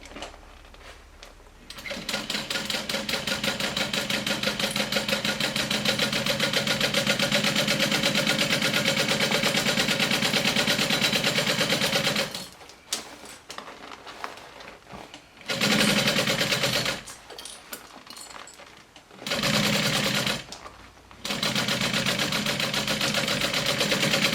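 A sewing machine stitches a fanny pack in long steady runs, its rapid mechanical chatter broken by brief pauses and restarts, loud and close with no voices.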